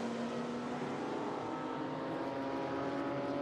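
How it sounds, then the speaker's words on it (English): A continuous high-revving Mazda 792P four-rotor Wankel engine race car drones steadily at constant pitch, loud and sustained with a rough, buzzy tone, no speech. "the four-rotor Mazda Wankel engine. Very distinctive sound"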